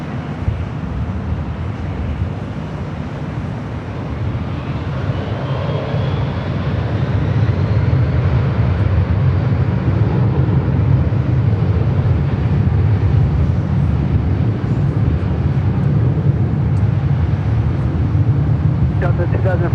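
Airliner taking off at LAX, a loud steady low jet roar that swells after the first few seconds and holds strong, with air traffic control radio talk over it.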